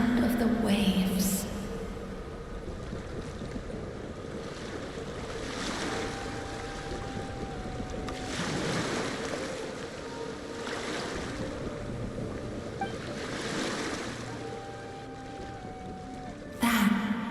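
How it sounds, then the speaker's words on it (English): Ocean waves in Genshin Impact swell and wash in several slow surges over a windy, breathy background, with brief louder bursts at the start and end. "Go to where you can hear the sound of the waves."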